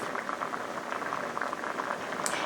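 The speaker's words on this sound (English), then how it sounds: "The mixture is bubbling." Moqueca, a Brazilian seafood stew with salmon and coconut milk, bubbles in a pot, a close, steady burbling simmer with continuous popping and no voices.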